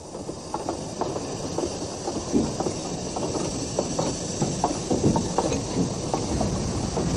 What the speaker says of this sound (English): A train arrives from the south.